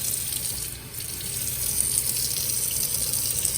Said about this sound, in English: I have missed water in a kitchen sink for sure.